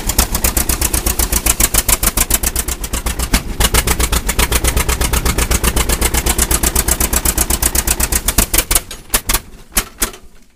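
A John Deere Model A tractor engine runs after sitting since 1997, a loud, close, rapid two-cylinder popping beat that stays steady and then falters into slower, uneven thumps as it dies.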